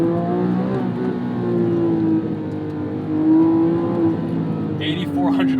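A 2007 Porsche 911 GT3 (997.1) with an 8,400 RPM redline revs hard on winding Malibu roads, its exhaust howl rising and falling steadily in the foreground, with a voice speaking over the engine.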